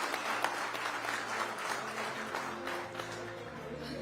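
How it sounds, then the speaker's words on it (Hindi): Crowd applause for Samajwadi Party leader Akhilesh Yadav at a televised election event, a dense and steady wash of clapping from a large audience that continues throughout. "जोरदार तालियां समाजवादी पार्टी के सुप्रीमो"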